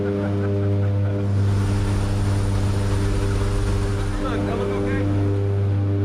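Steady loud roar of a propeller aircraft cabin at about 2.5 miles altitude with the jump door open, engine drone and wind rushing continuously, with voices speaking over it during a military parachute team jump flight.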